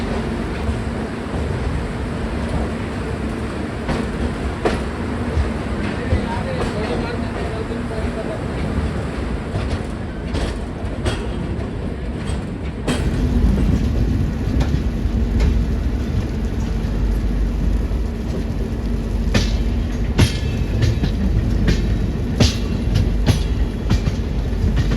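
Panvel Nanded Express passenger train (17613) running between Panvel in New Mumbai and Nanded, heard as a steady continuous rumble of rolling coaches with wheel and rail noise, growing louder partway through, with faint voices in the background.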